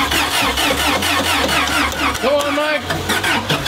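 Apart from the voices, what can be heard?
Lamborghini engine cold start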